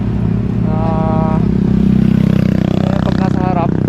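Motorcycles, including a Honda Airblade, idle and rev at a roadside traffic stop, a close engine chugging steadily with brief revving whines on top.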